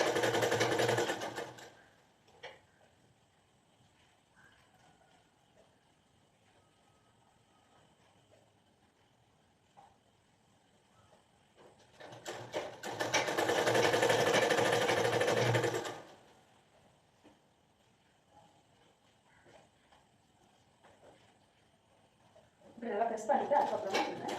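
A sewing machine stitches the inside fold of a cloth hem in three bursts, each a loud rapid clatter lasting a few seconds, separated by quiet pauses with faint handling noise.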